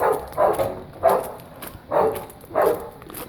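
A distressed dog, unsettled by something unfamiliar, barks several times in a loose rhythm, moderately close, with short gaps between the barks.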